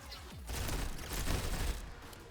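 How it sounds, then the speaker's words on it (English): Burst gunfire in the fast-paced roguelike shooter Galactic Vault, a dense, rumbling rattle of rapid shots that swells for about two seconds, loud and close with no speech. "I have to like burst fire to prevent myself from dying."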